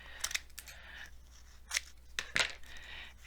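Scissors cut through Mod Podged paper close by in several short, crisp snips with pauses between them, against a quiet background.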